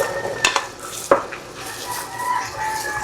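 Carrots go into a pot of pork picadillo, with a couple of sharp clinks and a soft splash followed by steady simmering and stirring noise nearby.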